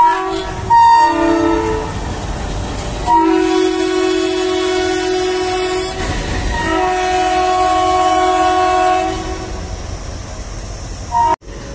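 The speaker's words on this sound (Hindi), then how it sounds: "यार हॉन्क बहुत प्यारा है इसका।" An Indian Railways WDP-3A diesel locomotive sounds its horn in long, loud, sustained blasts over the steady rumble of the train, with a short break between blasts and the roar continuing to the end.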